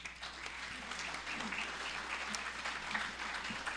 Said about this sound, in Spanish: Les pido un aplauso para la doctora Sara Pérez